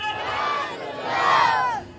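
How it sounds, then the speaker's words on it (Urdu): Large crowd at an Eid Milad un Nabi gathering in Jaipur shouting a loud unified chanted response in two swelling waves, massed voices echoing in a big space. "سراج بھائی نعرے تکبیر، نعرے رسالت"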